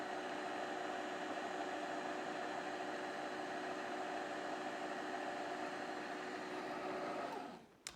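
A Magimix food processor runs on automatic, mixing yogurt and milk powder into milk: a steady, fairly loud whirring motor drone that holds evenly for several seconds before cutting off abruptly.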